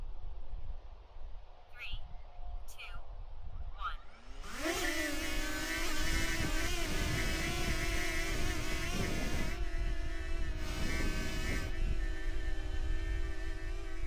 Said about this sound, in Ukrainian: Запускаю з руки і сідаю на руку.